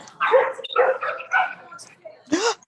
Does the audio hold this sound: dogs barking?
yes